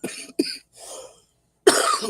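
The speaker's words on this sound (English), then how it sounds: "I just had a whole coughing fit." A burst of harsh, dry coughs from a dry throat, then a pause and a softer rasping cough, ending in another loud cough at close range.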